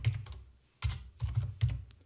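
Typing on a computer keyboard, a few close, crisp clusters of key clicks separated by brief pauses, with no voice over them.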